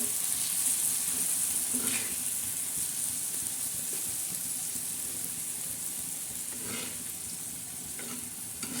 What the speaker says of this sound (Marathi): आपला तडका हा छान बसलेला आहे त्या कारल्याच्यावर सोडणार